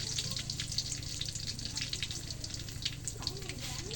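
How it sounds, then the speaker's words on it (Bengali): Lentils frying in a hot pan with onion and garlic make a faint, continuous crackling sizzle, close by, with no one speaking. "আমি ডালগুলো দিয়ে দিই।"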